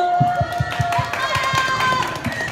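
Crowd clapping in a steady, even rhythm for a six-member women's rookie dance team at an outdoor dance battle on Hongdae's Aekyung forest street, the sharp claps close and regular over tonal background music.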